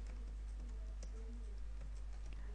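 Quiet typing on a computer keyboard while entering a MySQL login command, a run of light, irregular key clicks over a steady low hum, with no voices.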